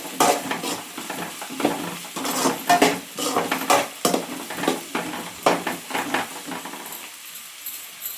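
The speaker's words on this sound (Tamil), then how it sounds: "நம்ம அந்த எண்ணெயிலேயே அப்படியே பரட்டிகிட்டே இருக்க வேண்டியதான்." Egg fried rice made with basmati rice, stirred and tossed in oil in a pan, with a steady run of scraping, clattering spatula strokes over a soft sizzle, the strokes easing off near the end.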